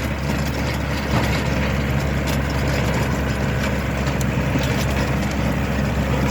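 A continuous heavy engine drone with rumbling machinery noise, steady and loud throughout, from a Yanmar RS240 compact tractor tilling heavy clay soil close by.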